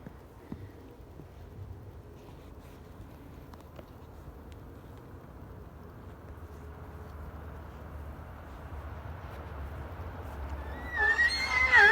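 Faint, distant horse sounds over a low rumble, ending with a sudden high-pitched squeal close by.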